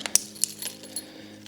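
A small bunch of keys for a city commuter scooter clinks and jingles in a few short metallic taps, close and fairly quiet, with no voices.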